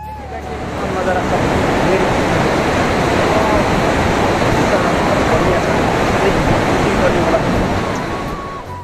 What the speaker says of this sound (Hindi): एक बार ये झरना दिखाने का कोशिश करते हैं